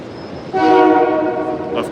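An MBTA train sounds a loud, sustained horn blast as it passes close by, the blaring tone holding for over a second above rumbling background noise before fading.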